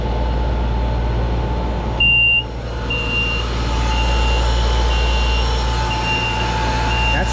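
A domestic water booster pump in alarm beeps steadily at regular intervals over loud, droning machinery hum, persistent and close.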